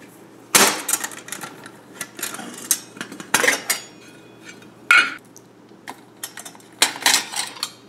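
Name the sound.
unpacking SilverFire Scout stove parts from stainless steel MSR pot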